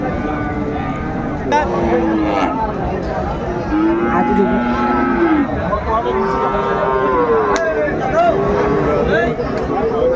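Sahiwal bulls moo repeatedly, long drawn-out lowing calls rising and falling over a busy background of crowd chatter and people talking nearby at a cattle market in Dinajpur.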